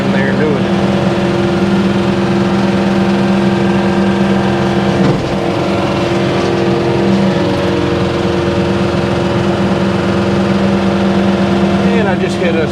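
A John Deere 4066R compact tractor running a Frontier RC2072 rotary cutter gives a steady, loud engine drone and a continuous mower hum with a brief bump midway while backing over small trees.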